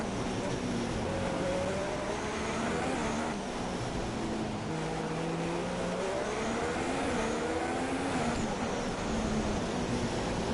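Engines of race cars in the F1 2016 video game rise as the field accelerates after a safety car period, with layered engine tones climbing and overlapping continuously and loudly throughout.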